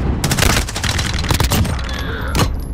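Dense gunfire in Call of Duty: Modern Warfare, rapid overlapping automatic bursts and shots, loud and close, continuous throughout with a sharp blast near the end.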